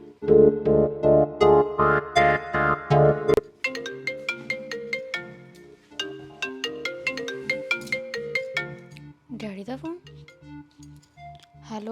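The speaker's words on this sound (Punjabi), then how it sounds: "ਅੰਦਰ ਮੇਰਾ ਫੋਨ ਵੱਜਣ ਡਿਆ ਵਾ" A phone ringtone plays a loud, repeating electronic melody nearby indoors, and a voice speaks briefly near the end.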